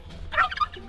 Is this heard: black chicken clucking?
yes